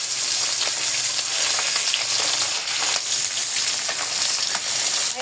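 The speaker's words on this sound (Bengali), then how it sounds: "এই যে এখানে হচ্ছে আমি মাছ ভাজি দিয়ে দিচ্ছি।" Pieces of fish fry in a pan of hot oil, a loud, dense, unbroken sizzle close by that holds steady for the whole stretch, with no one speaking.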